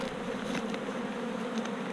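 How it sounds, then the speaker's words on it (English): Honey bees buzzing around an open hive during a comb honey harvest, a dense continuous drone close by with no talk. "we got plenty of bees here, as you can see"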